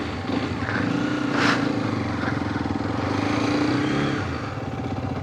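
Motorcycle engine on an adventurous ride to Rani Jharna falls in Palpa, Nepal, a close steady droning hum with a slight rise in pitch midway and wind rush, lasting several seconds without speech.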